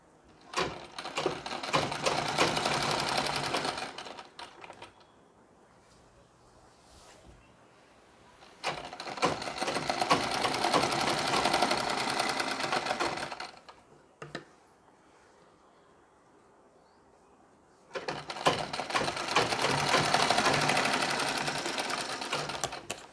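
A sewing machine stitches a Nauvari saree in three long bursts of rapid, even needle clatter, separated by quiet pauses.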